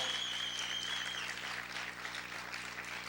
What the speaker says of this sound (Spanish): Vamos a aplaudir fuerte al Señor en esta hora.